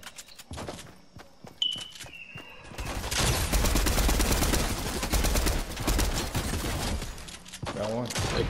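Gunfire in the Fortnite battle royale game begins with a few scattered shots and footsteps, then breaks into a sustained, loud barrage of rapid automatic fire lasting several seconds.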